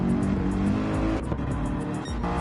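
Race car engines in a Gran Turismo race, one a BMW, roar loudly and continuously with shifting pitch as cars pass, with a brief dip and surge like a gear change, and no commentary over them.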